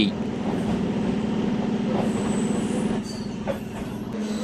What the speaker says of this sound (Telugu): దుగ్గిరాల నుంచి మన ట్రైన్ బయలుదేరి ఉంది